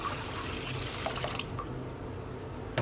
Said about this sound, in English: We're just going to top this up with some cold water.